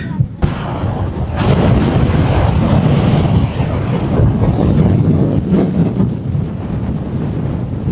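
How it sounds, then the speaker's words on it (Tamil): Strong wind blowing hard across the microphone on a boat trip to Nainativu, a loud, buffeting rumble with gusts after a sharp knock at the start. "காற்று இன்றைய நாளில் வீசி கொண்டிருக்குது"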